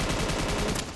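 Gunfire rattles from the video game Scarfall in a dense, continuous burst, loud and close, with no speech over it.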